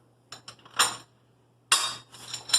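A steel bearing splitter with small sharp jaws is handled on a billet AWD transfer case, giving a few light metallic clinks and rattles in two short bursts over a faint steady hum.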